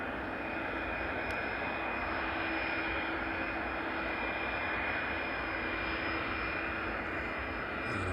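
Aircraft on the runway at East Midlands Airport, a loud continuous jet engine roar with a steady high whine, heard from nearby and sustained across the whole stretch.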